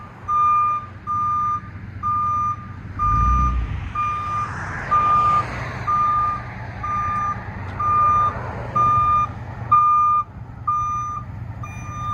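A modified, very loud bus backs up, its reversal alarm beeping in a steady, evenly spaced pattern over a low engine rumble, loud and close.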